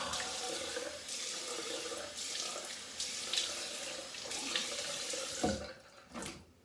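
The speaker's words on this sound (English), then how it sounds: "Gonna do cold shave, cold rinse as well." Cold water runs steadily from a bathroom tap into a sink for rinsing after a shave, close and continuous with splashing variations, then cuts off near the end with a few drips and handling sounds.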